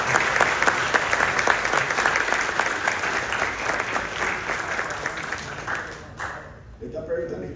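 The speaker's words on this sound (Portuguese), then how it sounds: "Também uma salva de palmas." A crowd at a book launch applauds warmly, dense steady clapping that gradually thins and fades out near the end, followed by a voice starting to speak.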